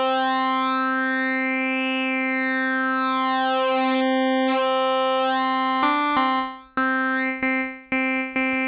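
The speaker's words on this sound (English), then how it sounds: "And of course, if you take a square wave" A buzzy synthesizer square-wave tone holds steady while its timbre slowly sweeps, then is retriggered in several short, abrupt notes near the end.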